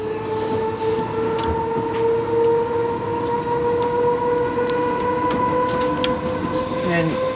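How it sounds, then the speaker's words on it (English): Steady rumble of a GWR battery train running between West Ealing and Castle Bar Park, with a sustained electric whine and hum holding throughout, close and continuous with no voices. "I'm on the train"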